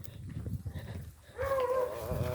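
A carabao, a water buffalo, gives a short low call close by, following a stretch of quiet rustling outdoor ambience.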